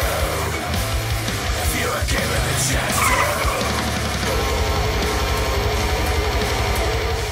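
A car with electronic stability control swerves in an evasive manoeuvre at about 60 km/h, its tyres skidding and squealing loudly over steady engine and road noise, close and continuous.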